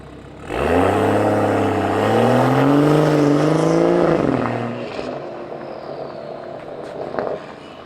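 A BMW F30 340i with a VRSF catless downpipe accelerates hard, its exhaust note rising in pitch over several seconds from a deep drone to a louder raspy howl, then backing off into a quieter burble and a few pops.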